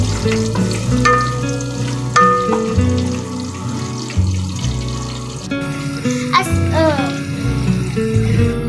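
Onions sizzling in hot oil with a little garam masala for matar pulao, a steady close frying hiss beneath background music.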